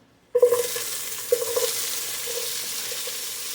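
After a moment of silence, vegetables hit a hot pan and break into a sudden loud sizzle, followed by a few stirring clatters as the frying settles to a steady hiss.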